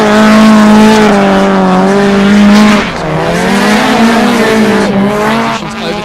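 A drift car at a drift championship qualifying round slides deep through a transition, its tires shrieking in a loud, sustained wavering squeal over the engine, dipping briefly midway then resuming.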